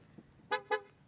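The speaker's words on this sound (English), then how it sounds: "Yeah, it was horning because the ignition is on." Two short honks from a Ford Mustang Mach-E GT horn sounding with the ignition on, close and clear, with a faint thud just before them.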